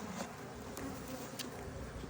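Honey bees hum steadily around a hive box that held bees all winter, a low continuous buzz at close range with a few faint clicks.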